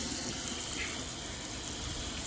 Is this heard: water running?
yes